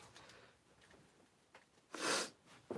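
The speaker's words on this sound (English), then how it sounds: "I apologize for the sniffles." Someone with a cold gives a few faint sniffs, then a single sharper sneeze-like snort, quiet and close in a calm indoor space.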